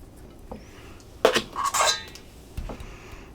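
A small metal spoon clinks and scrapes against dishes while Mexican street corn is prepared, a few close, bright clatters in a quiet kitchen, the loudest burst in the middle.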